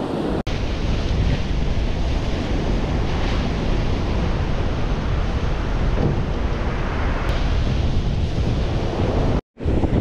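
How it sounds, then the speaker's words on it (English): Steady roar of wind buffeting the microphone on an open surf beach while fishing, with breaking waves blended underneath; loud and constant for the whole stretch, with a brief dropout near the end and no talking. "The wind's kind of picking up"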